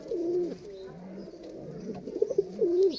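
Pigeons, including a possible Chinese cross with red eyes and Teddy pigeons, coo in soft repeated rolling calls close by, with faint background noise.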